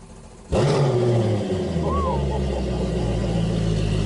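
A 2020 Triton 216 Fishunter boat engine cranks briefly, then catches and roars into a loud, steady idle that continues deep and rumbling to the end.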